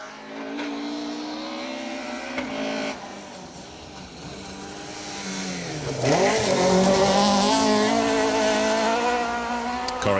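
A rally car, one of the cars on a forest stage of the Carlisle Stages Rally, drives by with its engine roaring steadily and climbs to a louder, harsher revving pass near the end over a constant outdoor background.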